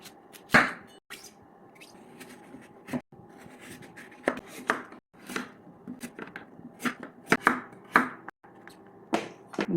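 A knife cuts summer radish into thin pieces for cabbage water kimchi, making close, irregular chopping taps on a board, with short pauses between bursts.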